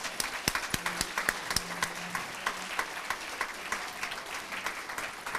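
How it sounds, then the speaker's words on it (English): Gala audience at a library foundation event breaking into a round of applause, steady dense clapping from a sizable crowd with a few sharp individual claps standing out, no talking. "give yourselves a big round of applause"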